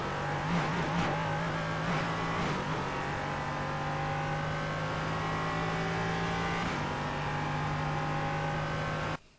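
An LMP3 prototype race car in the iRacing simulator lapping Sebring, its engine holding a steady high drone with brief revving shifts early on before cutting off at the end.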